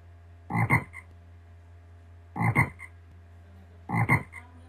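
Three separate frog croaks in a children's Flash fishing game, each a short rasping double pulse, spaced about two seconds apart over a low steady hum.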